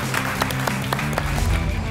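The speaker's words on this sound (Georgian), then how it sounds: "აპლოდისმენტები" Studio audience applauding on a Georgian TV comedy game show, a steady wash of clapping over a low musical hum, moderately loud and continuous for about two seconds.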